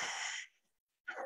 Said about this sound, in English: You want me to show you the family sneeze?